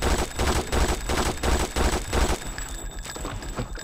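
Rapid automatic gunfire from a video game, Vampire: The Masquerade - Redemption, in repeated loud bursts for about two and a half seconds before trailing into quieter clatter.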